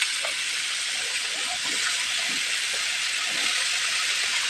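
Eggplant, potato and cauliflower hit hot frying spices, giving a steady broad hiss of sizzling oil that stays even and continuous throughout, with faint clinks and stirring beneath and no talk.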